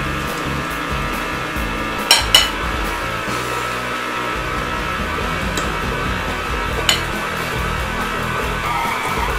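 An electric stand mixer whirs steadily while creaming coconut macadamia nut cookie dough, a continuous mid-level motor drone with a few brief clinks partway through.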